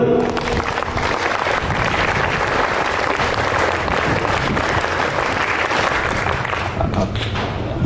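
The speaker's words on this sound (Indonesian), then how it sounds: "Tepuk pramuka 2 kali." Scout troop members at a Pramuka inauguration ceremony clap the Pramuka clap together, dense group clapping filling the whole stretch at steady volume with voices mixed in.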